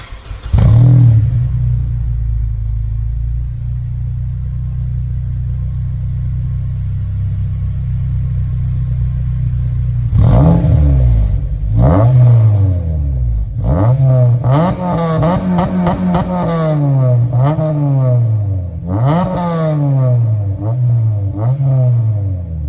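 A Honda Civic Type-R EP3 revs hard from a low idle drone, then its exhaust fires several sharp rising blips that bounce off the limiter, loud and close, with repeated up-and-down revs and no talk.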